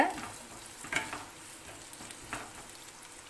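Two large, coarsely cut onions are sautéing in hot oil, giving a faint, steady low sizzle with a few soft stirring scrapes near the start, around one second and around two and a half seconds.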